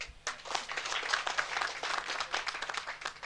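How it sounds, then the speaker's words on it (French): Crowd clapping at a French-language political rally in Guinea, a quick rise into lively, uneven applause with distinct individual claps, sustained at moderate loudness after a brief quiet start. "Applaudissez-les."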